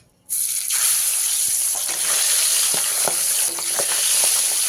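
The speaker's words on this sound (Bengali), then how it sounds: "এবারে একে একে মাছগুলো দিয়ে দেবো" Pabda fish going into hot oil in a wok over a low gas flame, bursting into a loud, steady sizzle after a brief quiet start, with crackles and small pops throughout, close and with no voices.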